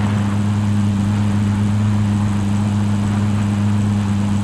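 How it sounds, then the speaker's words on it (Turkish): A plane drones steadily overhead in Call of Duty: Modern Warfare, a loud, even engine hum with strong low tones and no break for the whole stretch. "Uçak."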